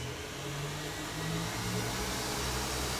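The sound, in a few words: stand mixer whisking cream on high speed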